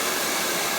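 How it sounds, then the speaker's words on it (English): A blow dryer running on hair, a loud, steady, close-up whooshing roar of airflow with no break and no talking. "Take my blow dryer, fan it over, filling the cuticles, following all the way down the hair shaft"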